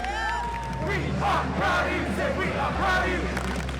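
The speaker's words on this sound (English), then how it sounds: "The SOTABots cheer the winning teams" Crowd of robotics team members at a FIRST competition cheering and whooping for the winning teams, a loud continuous roar of shouts and cries lasting several seconds.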